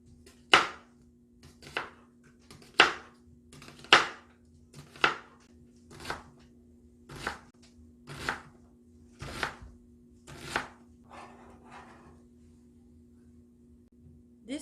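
Knife chopping onion on a cutting board, about a dozen distinct crisp chops in a steady, unhurried rhythm, close and clear over a faint steady hum, with no talking.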